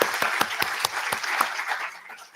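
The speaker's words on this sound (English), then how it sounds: "One more round of applause" A lecture audience applauds, and the dense, even clapping stays steady from start to finish at moderate loudness.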